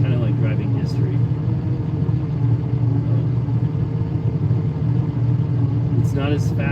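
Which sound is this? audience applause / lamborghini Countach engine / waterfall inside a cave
lamborghini Countach engine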